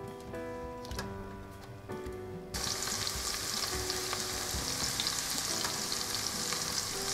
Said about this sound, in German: Hinzu kommt Zwiebel. Ja. Und dann werde ich das Ganze für eine Minute braten.